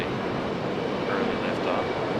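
A regional jet, an Embraer E175, roars through its takeoff run at Raleigh-Durham International Airport, a broad steady engine rumble and whine held at constant loudness throughout, heard from a distance.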